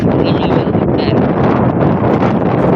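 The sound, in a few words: strong wind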